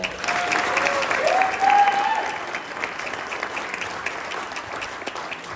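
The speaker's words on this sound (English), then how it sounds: "Let's give them a round of applause." Audience applause for coaches and staff at a high school spring signing day ceremony, a steady wash of clapping from a gathered crowd that swells briefly, with a faint whistle-like tone partway through.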